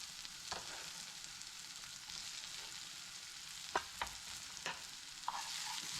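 Mashed potato sizzling in a hot pan, a soft steady frying hiss with a few sharp scrapes and taps of a utensil stirring, fairly quiet and close with no talking.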